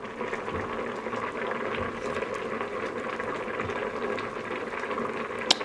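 A pot of ukwa (breadfruit) comes to the boil with continuous close bubbling and simmering, steady in level with a small click near the end, and nobody speaking.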